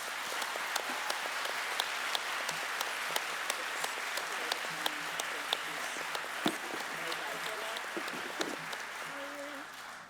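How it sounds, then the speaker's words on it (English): Steady applause from a crowd, many hands clapping continuously at a moderate level, with some voices and cheering mixed in. "Please give them a very warm round of applause."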